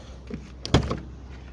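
A car door opens with a short mechanical clunk and latch rattle, one brief sharp burst amid quiet surroundings.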